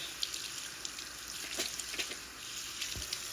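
Running tap water splashes steadily into a sink while a thick-haired doll's hair is rinsed of soap, with soft irregular splatters and drips over a continuous hiss, close and fairly quiet.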